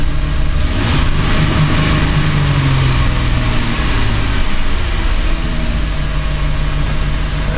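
A Chrysler Town & Country 4.0 engine runs rich just after a cold start, a loud, steady, close rumble with a slight rise and fall in pitch early on.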